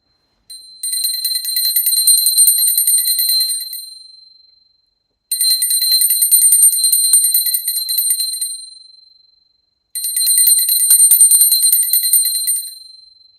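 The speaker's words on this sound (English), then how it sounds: "Now I take a bell to offer the element of sound." A small ritual bell rings three times during a puja, each a long bright trilling ring of a few seconds that fades out, separated by clear silences.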